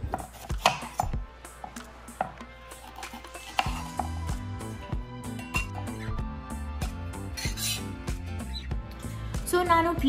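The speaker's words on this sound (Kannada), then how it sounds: "ಪೀಚಸ್ನ ಈ ಥರ ಕಟ್ ಮಾಡ್ಕೊಳ್ಳಿ." Peaches being sliced with a knife on a cutting board, repeated soft chopping taps with occasional clinks, set against music and other kitchen sounds.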